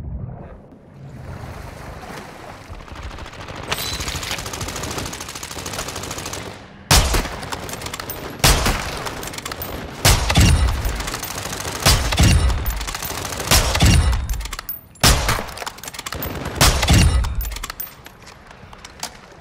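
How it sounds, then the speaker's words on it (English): Call of Duty gunfire on the Ashika map, heavy bursts and sharp cracks of shots punching through a wall, loud and close, in clustered volleys with short gaps and a rushing ambient roar between them. "Something's shooting through the wall."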